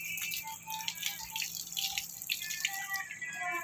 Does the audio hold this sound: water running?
yes